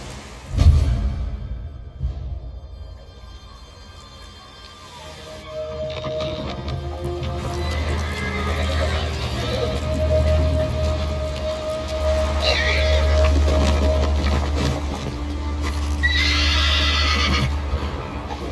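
Kage, a horse wearing armor in the samurai game Ghost of Tsushima, neighs and whinnies amid a low rumbling ambient bed, with a strong burst early on and higher whinnies later over steady background sound.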